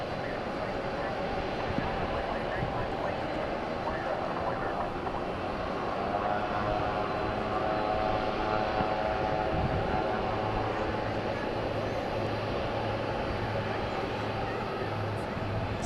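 A heavy airliner taking off at DFW International Airport, a broad, steady engine roar rumbling from a distance for the whole stretch, with voices talking over it.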